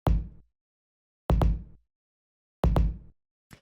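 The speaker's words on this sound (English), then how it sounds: "so the next thing we have here is the kick," Layered kick drum sample for a trip hop beat, a low kick blended with a vinyl kick, hitting in short dry punches: a single hit, then two quick double hits, and a faint clipped hit at the end.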